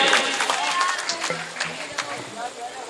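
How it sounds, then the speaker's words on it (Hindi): Crowd at a Delhi mushaira poetry gathering applauds a poet, brisk lively clapping mixed with audience murmur and voices, fading slightly toward the end. "एक बार सैयद भाई के लिए ताली हो जाए भाई, सैयद भाई के लिए"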